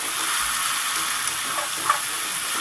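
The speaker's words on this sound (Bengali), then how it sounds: "এবার দেখুন দিয়ে দিচ্ছি ভাজা আলুগুলো দিয়ে মশলাটার মধ্যে সুন্দর করে আমি" Fried potatoes being stir-fried in a spice paste in a pan give off a steady, close, dense sizzle and crackle that continues without pause.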